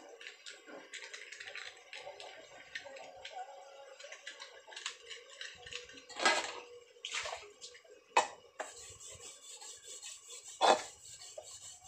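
Someone scrubs a water-heating pot with a scrubber in a village home, making close, rasping strokes in irregular bursts with some louder scrapes and light watery sounds between them.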